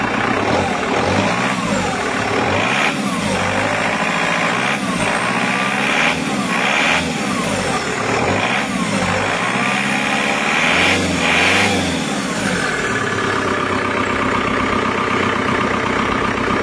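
A freshly assembled Kia Carnival diesel engine running loud and close, a steady rough idle with rhythmic pulsing and a heavy low rumble throughout, settling slightly smoother near the end.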